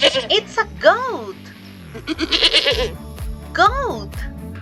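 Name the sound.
goat bleating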